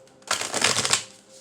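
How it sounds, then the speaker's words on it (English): A deck of tarot cards is riffled in a single quick shuffle, a close, crisp rapid fluttering burst lasting under a second before fading to quiet. "I'm going to shuffle these again"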